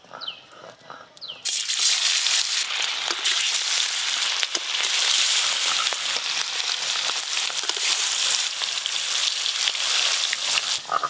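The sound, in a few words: fish frying in mustard oil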